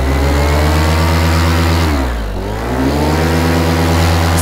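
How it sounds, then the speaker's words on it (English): A paramotor engine on a paraglider runs loud and steady close by, its droning pitch dipping briefly as the throttle eases and then rising back to full power. "Make sure my motor's running."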